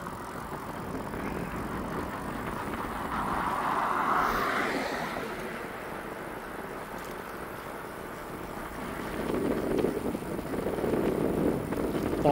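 An R48 electric bike climbs a hill on throttle alone, giving a steady motor whine with rising wind and road noise, swelling around mid-ride and again near the end, with no talking.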